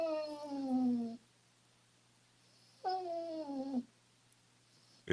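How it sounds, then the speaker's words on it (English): A dog named Titan gives two drawn-out, falling whine-howls, each about a second long with a pause between, close and fairly loud, followed by a brief sharp noise at the end. "Is that a dog or a cat? It's a dog."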